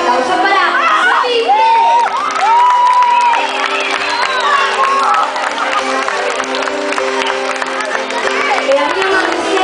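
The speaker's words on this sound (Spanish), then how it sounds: "así que por favor, aplaudenle fuerte" At a Galician music concert in Antas de Ulla, a large crowd applauds and cheers loudly and steadily, with whoops and shouts rising over the clapping throughout.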